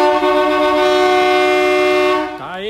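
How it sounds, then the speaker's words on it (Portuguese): Marine horn sounding after maintenance, one loud sustained tonal blast with strong stacked harmonics, held for about two seconds before it drops in pitch and cuts off, close up. "Vamos tocar a buzina dele aqui."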